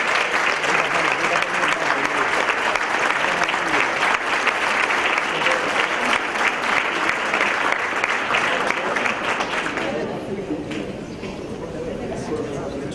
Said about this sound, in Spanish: Y si les parece, aplaudimos a los compañeros de la Escuela de Animación del colegio.